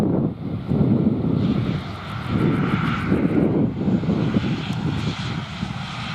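A jet airliner arriving at London Luton on a windy afternoon roars loudly and steadily with a broad engine rumble, gusts of wind buffeting the microphone throughout.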